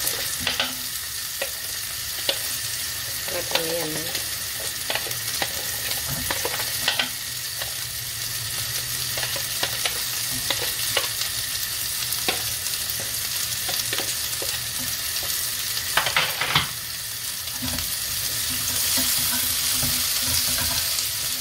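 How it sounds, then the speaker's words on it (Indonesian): Shallots fry in oil with garlic for sambal terasi, a continuous bright sizzle with occasional stirring scrapes and clicks, steady and fairly loud throughout with no one speaking. "saya masukkan bawang merah ya, udah kena minyak"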